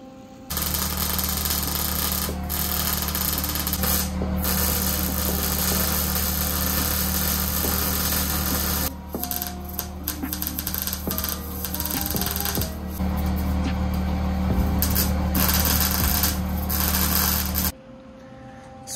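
An electric power steering unit fitted to a dune buggy hums and whirs steadily as the wheels are turned back and forth, with shifting tonal whines and brief dips before it cuts off near the end.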